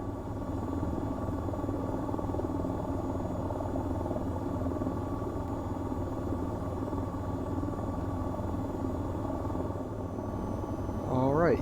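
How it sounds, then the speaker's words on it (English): Steady engine and rotor drone of an AH-94 attack helicopter in the flight game VTOL VR, continuous and fairly loud throughout, with a rising whine near the end and a voice talking over it. "I'll give you some nice views of the external of the outside of the helicopter."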